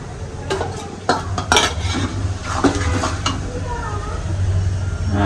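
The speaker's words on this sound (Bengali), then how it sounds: "আর এখন মশলা দিব। এখানে পেঁয়াজের পেস্ট, আদা রসুন সবকিছু বাটা আছে," Onion paste and ground ginger and garlic are stirred into whole spices in a cooking pot, with a spoon clinking and scraping against the metal over a light sizzle.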